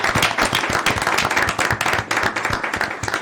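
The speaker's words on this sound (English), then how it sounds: "Let's give him a round of applause." Hands clap at a mayor and council meeting, a fairly small room of people applauding with distinct, close individual claps in a brisk uneven rhythm, fairly loud.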